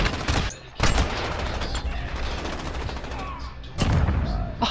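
Sniper and rifle gunfire in Call of Duty Modern Warfare online play: several loud, sharp shots with reverberant tails, one near the start, another around the first second and a burst near the end, over continuous game noise.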